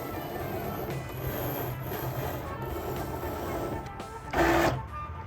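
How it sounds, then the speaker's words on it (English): A Cricut cutting machine runs with a soft mechanical whir and faint clicking, then gives a brief louder burst of movement near the end, heard alone and fairly quiet. "The Cricut cutter changed this whole process and it is fantastic."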